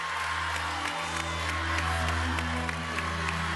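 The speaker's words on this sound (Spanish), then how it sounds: "Este aplauso de toda la gente para Gustavo Corbalán" Live studio audience at the televised final of La Voz Argentina applauding and cheering, a steady dense wash of clapping and crowd noise with whoops over a low hum.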